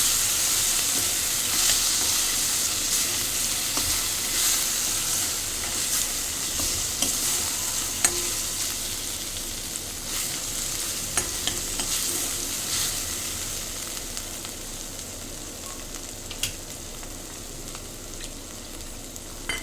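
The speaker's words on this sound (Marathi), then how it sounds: "आणि परतून घ्यायचे जेणेकरून त्याला लसणीचा आणि तिखटचा स्वाद लागेल" Fenugreek leaves sautéing with garlic and chili in a pan give a steady, close hiss of frying, with continuous soft stirring and scraping throughout and no voices.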